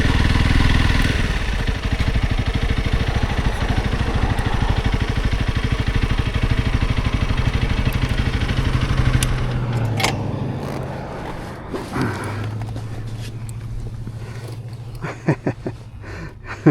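A 300 rally dirt bike engine runs close by with a loud, steady throbbing drone that then drops to a quieter idle with scattered clunks and clatter, no talking.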